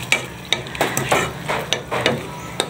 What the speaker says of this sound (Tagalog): Haluin natin yung miswa.